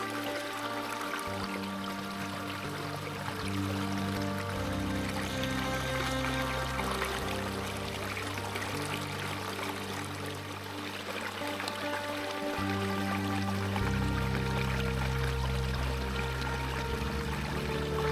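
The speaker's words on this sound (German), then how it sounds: "dieser Bach hier, der steht in meinem Guidebook drin" A mountain stream in the Sorogain valley flows and pours steadily nearby, a continuous broad rush of water with no voices.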